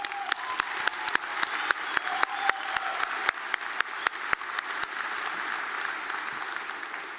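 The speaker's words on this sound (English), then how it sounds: "please give yet another round of applause for Dennis Owens" A large audience applauds at a college commencement ceremony, dense clapping with distinct sharp claps near the front, holding steady for several seconds before gradually thinning and softening.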